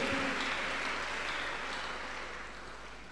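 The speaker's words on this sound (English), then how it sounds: "Now we clap unto God and appreciate him." A church congregation claps together during a Tuesday miracle service, producing a dense, steady wash of applause that holds for a few seconds and fades slightly toward the end.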